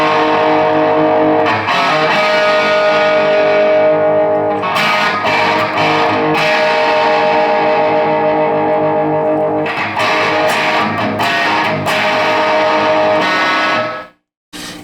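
Electric guitar played through a Mojotone Plexi kit amplifier with heavy distorted fizz, sustained chords ringing loud and continuous with several re-attacks, then abruptly cutting off near the end.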